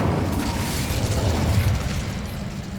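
Incendio fire spell cast in Hogwarts Legacy, a continuous crackling burst of fiery, explosive noise that holds steady and fairly loud throughout, with a slight fade near the end.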